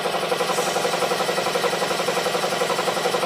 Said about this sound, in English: Now the compressor's still low of air. I'm going to go ahead and let it build up.